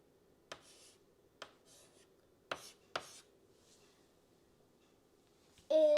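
A marker or chalk scratches on a classroom board in about four short, quiet strokes with pauses between them. A brief tonal sound follows at the end.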